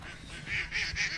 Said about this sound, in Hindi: बतख सब चिल्ला रहा है, क्वैक क्वैक क्वैक क्वैक कर रहा है।